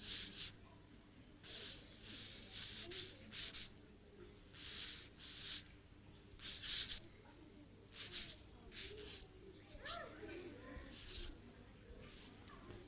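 A marker drawing a red motorcycle doing a wheelie on paper gives short, bright squeaky strokes in irregular bursts, with quiet gaps between them and soft background noise.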